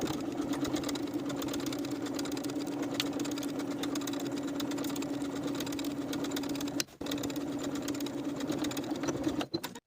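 A sewing machine edge stitches pockets onto a vintage apron, humming in a continuous steady run with a strong motor whine, pausing briefly near the end before a final short stop.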